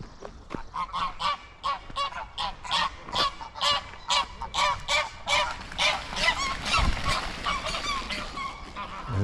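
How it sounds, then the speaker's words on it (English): A couple of geese at a country hall estate honk loudly and repeatedly in a rapid, overlapping series of calls, close by, with no talk over them. "there's a couple of geese there, look. They're the ones that's making all the racket."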